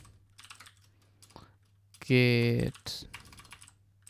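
Soft, rapid clicking of computer keyboard keys, near and fairly quiet, broken by a short loud tone, with a few words spoken during the clip.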